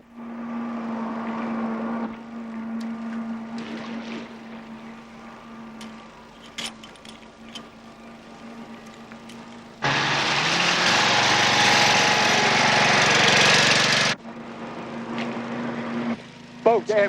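A motorboat engine drones steadily from a distance, then surges much louder for several seconds as the boat draws near, before dropping back, with a voice speaking over parts of it.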